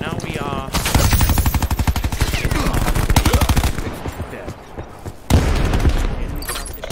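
Rapid automatic gunfire in Call of Duty Black Ops 4 multiplayer, dense loud bursts of machine-gun fire running for several seconds with short gaps and a final sharp volley.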